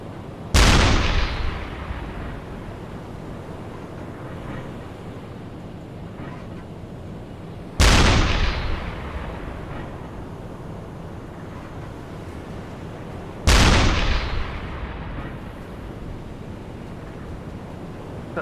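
The deck gun on a U-boat in UBOAT fires at a ship three times, each a sharp heavy boom with a long rumbling decay, spaced several seconds apart over wind and sea noise.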